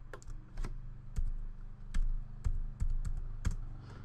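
Someone presses keys on a computer keyboard while working in Blender 2.66, giving scattered single clicks and taps at uneven intervals, close and clear over a low steady hum, with no talking.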